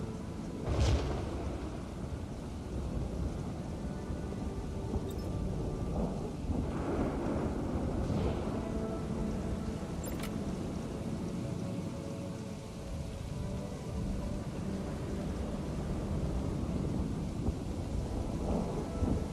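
A thunderstorm in the Planet Coaster 2 video game, with steady heavy rain hissing throughout and rumbling thunder swelling at intervals, all continuous and without speech.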